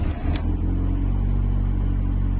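A Fiat Tipo engine fires up with a short burst, then settles into a steady, loud, slightly rough exhaust-heavy idle that runs continuously close by.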